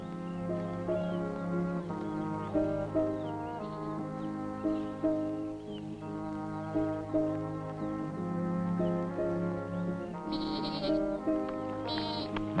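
A hungry baby goat bleats repeatedly over a continuous musical score from a 1964 Robinson Crusoe series, the cries faint and mostly masked by the music.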